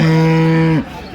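A dairy cow of an improved breed, a six-toothed milker with her calf at a busy rural cattle market in Dinajpur, gives one long, loud, steady low moo that cuts off abruptly, with no talk over it.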